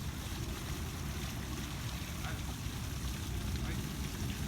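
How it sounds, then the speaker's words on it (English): A water fountain in the Rose Garden in Sofia gives a steady, close rush of splashing water, a dense even wash of noise with a slight windy edge and no breaks. "We have a dog sipping water out of the fountain."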